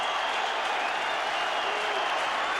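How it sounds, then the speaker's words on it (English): A stadium crowd applauds the Richmond Tigers football team, a steady dense wash of clapping and cheering with no break from start to finish. "he's walked out on the ground and is applauding his team"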